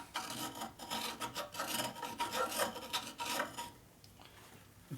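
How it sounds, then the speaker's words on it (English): Scraping carbon off the gasket surface of a Harley FXR engine during a top-end repair: steady rasping strokes, close and fairly loud, repeating for several seconds before tapering off near the end. "Scrape the carbon out."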